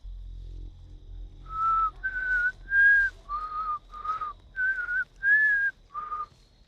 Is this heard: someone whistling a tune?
yes